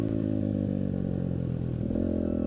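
A dirt bike engine revs hard while ridden fast on a track, a loud, steady, buzzing drone with rattling clatter, close up and continuous with no talking.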